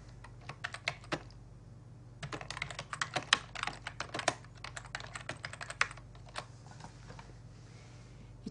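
Quick bursts of keystrokes clatter on a computer keyboard, clustered runs of close, crisp taps separated by short pauses, quiet and alone.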